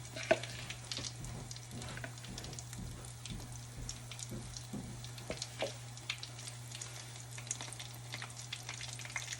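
Corn fritter batter frying in oil in a pan: a steady, soft sizzle with scattered crackles and pops throughout, fairly quiet over a low hum.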